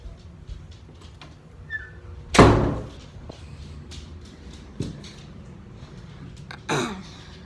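A door at home shuts with a sharp thud, followed by softer knocks and a second bump in a quiet room.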